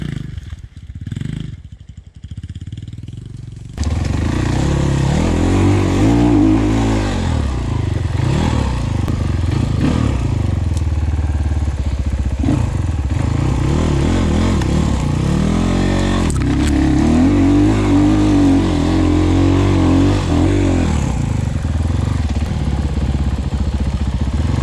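Enduro motorcycles of around 250cc revving hard in sand, a loud close engine roar that rises and falls with repeated throttle surges after a short quieter start.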